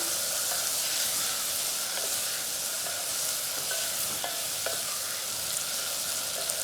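Stir fry sizzles steadily in a pan with a small splash of sauce and salt, a continuous loud hiss with occasional crackles and stirring clinks throughout.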